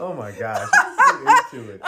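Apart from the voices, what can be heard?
dog barking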